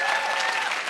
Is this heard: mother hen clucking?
no